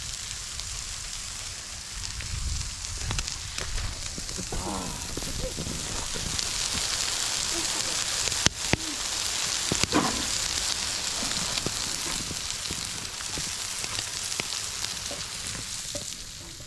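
Burgers and fixings sizzle and toast on a grate over an open fire on high heat, a steady crackling hiss throughout with a few sharp clicks, close and unbroken by talk.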